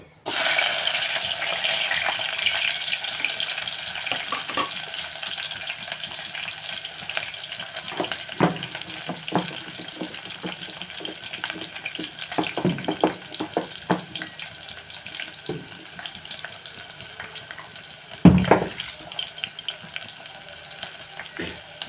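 A continuous hiss of garlic frying in oil for dal tempering, with scattered crackles and a louder clatter near the end.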